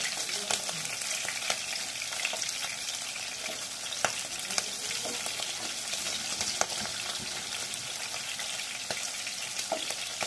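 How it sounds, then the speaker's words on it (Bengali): Fish pieces frying in hot oil give a steady, dense sizzle that runs the whole way through, with occasional sharp pops and light clicks as the fillets are handled. No one speaks. "এক পিঠ ভাজা হয়ে গেলে খুব হালকা করে মাছগুলোকে উল্টে দিতে হবে।"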